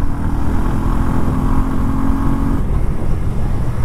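A Bajaj Pulsar N125 motorcycle engine drones steadily while riding, a loud, close hum whose steady tone drops away partway through as a gear is shifted.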